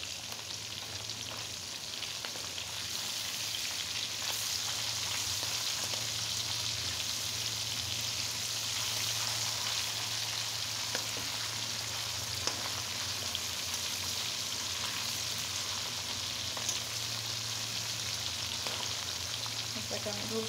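Pieces of hilsa fish frying in oil, an even, continuous sizzle heard fairly faintly with a low steady hum underneath and occasional small pops.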